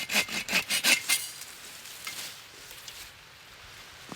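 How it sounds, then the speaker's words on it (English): A folding saw cuts through a springy tree branch amid rose bushes in a rapid series of six or so close, rasping strokes, then stops, leaving faint rustling outdoors. "Got the folding saws that gave me. It's pretty handy."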